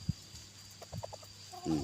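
A fighting rooster kept for cockfighting stands loose and unbound, giving a few short, soft clucks and low throaty notes, close by and fairly quiet against a faint steady background hum.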